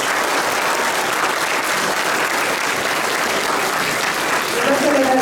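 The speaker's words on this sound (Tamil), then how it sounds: "நிலையீட்டு மாணவர்களுக்கு பெரிய கரகோஷத்தை இருக்குமாறு கேட்டுக்கொள்கிறேன்." A large audience gives steady, prolonged applause for graduating students at a Tamil school annual day and graduation ceremony, the clapping dense and even from start to finish.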